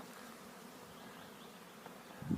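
Soft, steady buzzing of many honeybees at an apiary in spring, faint and continuous, with a brief louder thump at the end.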